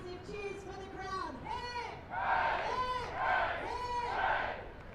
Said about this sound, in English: can we have 3 massive cheers for the crowd?